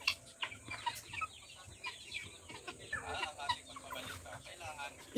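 Native chickens in a wide enclosed pen cluck and chatter in a busy, overlapping flock, soft calls at moderate distance with occasional sharper notes.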